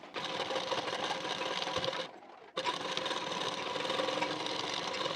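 Close, fast, even whirring of a sewing machine stitching the belt section of a blouse, running steadily, pausing briefly for half a second, then resuming.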